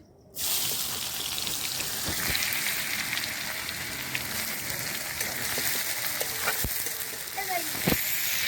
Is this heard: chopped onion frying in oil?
yes